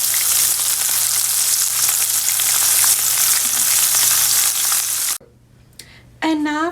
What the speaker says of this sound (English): I'm just going to add my fish head in now and let this fry until golden brown on each side